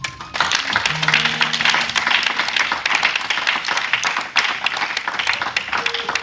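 A church congregation claps and applauds Jesus in a steady, dense burst of clapping that fills the room, with faint voices and a brief sustained tone underneath.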